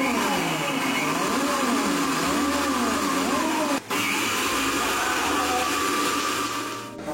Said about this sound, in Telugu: దీన్ని మిక్సీ కొడదాం.